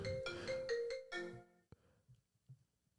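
A phone ringtone plays a bright, repeating melodic pattern of tones for about a second and a half, then cuts off, followed by a sharp knock and a few soft low bumps in near silence.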